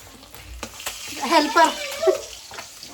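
Fish fries in a home kitchen with a low, intermittent sizzle under a nearby voice speaking, along with some splashing and clattering.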